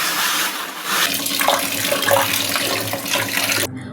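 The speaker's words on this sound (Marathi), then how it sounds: "पोहे बनवण्याआधी छान पोहे धुवून घेऊयात" Poha (flattened rice) being washed in water makes a steady running, splashing wash that continues close by without talk, then cuts off at the end.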